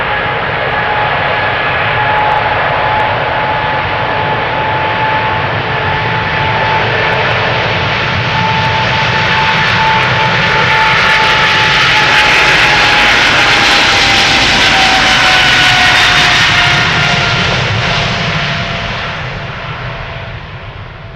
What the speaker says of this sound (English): that first triple is already spooling up. Here we go, KLM flight 641 to New York, JFK, 777-300